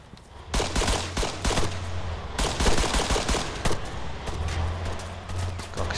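Gunfire in Arma 3's Wasteland mode, loud repeated shots and short bursts cracking out across the whole stretch, near and sharp, with some lower rumbling between shots.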